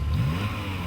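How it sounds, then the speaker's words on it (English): Ferrari 355 racing uphill at a British hillclimb, its engine revving hard and close in a brief, loud burst with a rising note. "Here's Richard Allen now with his 355."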